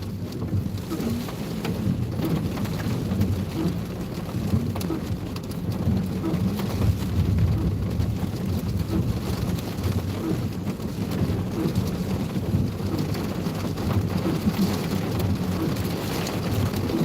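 Steady heavy rain pours down during a tornado-warned thunderstorm on a highway near Seymour, Indiana, with a low continuous rumble of thunder running beneath the dense hiss of drops for the whole stretch.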